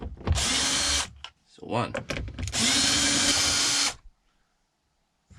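A power drill or driver works bolts out of a BMW F-series car door, in two loud sustained whirring bursts of about a second each, close up, with a brief voice between them.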